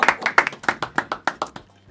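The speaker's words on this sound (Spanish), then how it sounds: "¡Aplausos!" Studio audience hands clap in quick, uneven bursts, a short close patter of about a dozen claps that fades out within two seconds.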